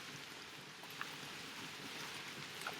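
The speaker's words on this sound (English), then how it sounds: "Sorry about all this rain, by the way." Steady rain falls outside a porch, a soft continuous hiss with occasional close drips and patters, fairly faint and uniform, with no one speaking.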